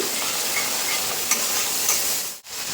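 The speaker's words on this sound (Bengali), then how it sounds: "এবার মশলাটা খুব সুন্দরভাবে কষিয়ে নেব" Spice masala with salt and chili powder sautés in oil for an onion-tomato dish, giving a continuous close sizzle with faint stirring scrapes, then a brief break near the end before the sizzle resumes.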